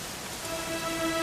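Steady rain falls in Dragon Quest XI, a soft continuous hiss with a faint tonal hum beneath, brief and even.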